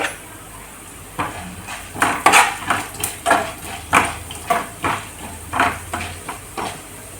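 Chana dal and urad dal roast in a pan while being stirred, giving a series of sharp scraping clanks at a fairly regular pace over a faint sizzle, with no talking.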